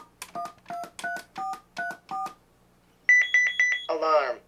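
A 1992 CareTaker Plus home automation alarm keypad beeps as the system is armed: a run of seven evenly spaced two-tone key presses, a pause, then four higher rapid beeps and a final warbling confirmation tone, close and clear.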